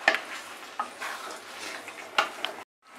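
Aloo dum (spiced potato curry) bubbling and sizzling on high heat, a soft broadband hiss with a few sharp stirring clinks of a utensil against the pan, then a sudden cutoff near the end.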